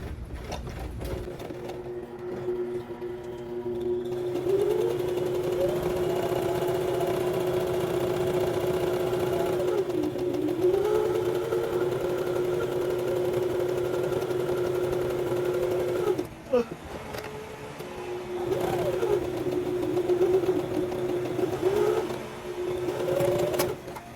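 A sewing machine stitches a pajama sleeve from a Butterick 6296 pattern, its motor humming in steady runs of several seconds with short pauses, a close and moderately loud drone with the pitch rising and falling.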